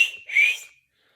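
A single loud, clear human whistle made without fingers in the mouth: a short high-pitched blast followed by a brief rising, sustained tone that cuts off sharply, alone with no talk.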